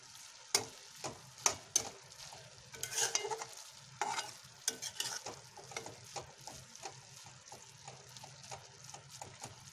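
Carrot halwa with cardamom being stirred in a pan, a spoon scraping and knocking in irregular strokes over a low simmering bubble, close and fairly quiet with no talk.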